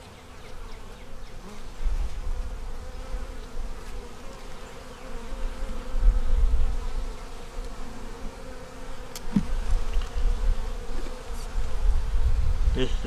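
Honey bees buzz around a hive frame that carries honey, pollen and queen cells, a dense, continuous close-up drone that swells and fades with a few faint handling knocks.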